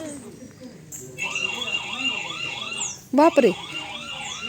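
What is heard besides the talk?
CCTV camera alarm siren sounding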